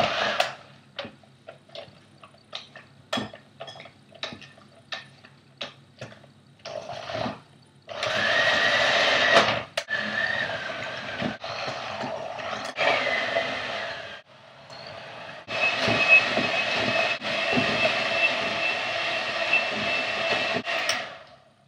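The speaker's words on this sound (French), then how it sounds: "avec mon batteur, je vais battre tout ça." Electric hand mixer beating cookie dough with vanilla seeds, beginning with a run of rapid ticking knocks against the bowl, then a steady loud whirring drone that cuts out briefly and starts again.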